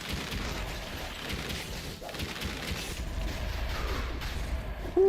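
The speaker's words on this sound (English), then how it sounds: "One of those explosions could have killed me." Rumbling explosions in a chaotic video game battle, a dense, continuous roar of booms and crackling blasts throughout, ending with a short tonal game sound.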